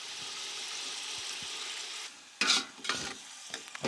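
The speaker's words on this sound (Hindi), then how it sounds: "अच्छे से हमें मिक्स करना है" Masala gets mixed into white peas pulao in a pot with a splash of water: soft continuous sizzling, then a few scraping stirs of a spoon against the pot, close and fairly quiet.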